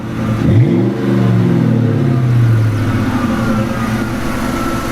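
A warmed-up car engine is blipped once, loud and close: a quick rising roar that peaks and then slowly winds back down to a steady idle, with no voices over it.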